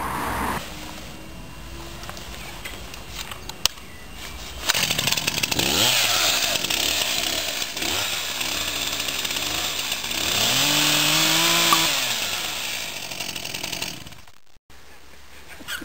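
A Stihl chainsaw buzzes close by, its engine revving up and down in rising and falling whines before cutting off near the end.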